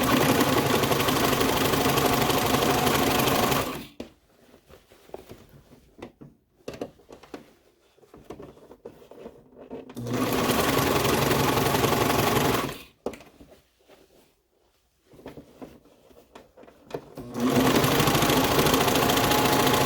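Sewing machine stitching fabric for a skort, running in three long steady passes of several seconds each, loud and close, with quiet pauses of faint handling noise between them.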